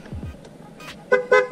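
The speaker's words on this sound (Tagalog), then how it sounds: "Yung busina." Two short, bright beeps of the stock horn on an NMAX 155 V2 ABS motor scooter sound in quick succession, close by, after some quiet handling noise.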